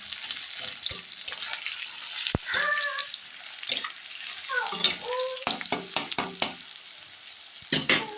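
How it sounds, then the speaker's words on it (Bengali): Sliced onions frying in a pan, with bursts of sizzling and scraping stir strokes, sharp clicks of utensil on metal, and brief spoken words in between. "আমি পেঁয়াজটাকে একটু লাল লাল করে ভেজে নিচ্ছি"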